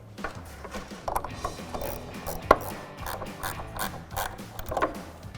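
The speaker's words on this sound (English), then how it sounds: "you might need to grab a ratchet with a 10mm deep socket" Ratchet fitted with a 10mm deep socket works nuts on a Jeep Wrangler JL aluminum rear bumper install, making quiet bursts of rapid clicking with a few sharper metallic clinks, close and on its own.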